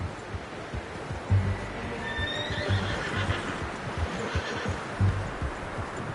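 Horse whinnying and clip-clopping hooves in the Red Dead Redemption video game, a short neigh over steady hoofbeats with outdoor ambience around.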